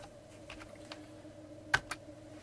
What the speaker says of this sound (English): I'm just going to type in MTSU space D2L.